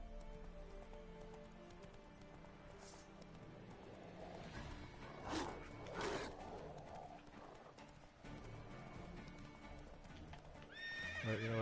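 A horse gallops in Witcher 3 with steady rhythmic clip-clop of hooves over a game soundscape, rising at moments as a whinny and brief snorts cut through near the end, moderately loud and with no talk.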